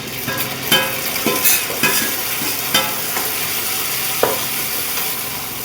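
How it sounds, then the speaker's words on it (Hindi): Dal tadka tempering in a home kitchen pan, a steady hiss of sizzling oil with intermittent clinks and scrapes of stirring, close and alone. "मैंने दाल को तड़का लगा दिया है"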